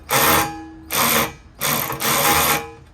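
Four whirring bursts from a power driver as a screw is tightened into a MOLLE panel on a Ford Bronco, each burst close and loud with short pauses between.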